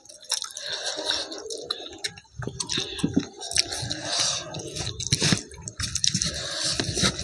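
Wet, squishy chewing during an eating challenge with jackfruit cooked in lentils, close and busy with smacking and squelching bursts throughout.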